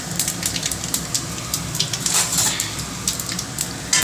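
Panch phoron whole spices, dried red chillies and bay leaves tempering in hot oil, a close continuous crackle and spitting sizzle with sharp pops throughout.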